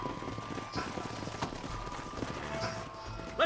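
Faint, steady clip-clop of horse hooves at a trot, soft and somewhat distant beneath a low background rumble, in the video game Red Dead Redemption.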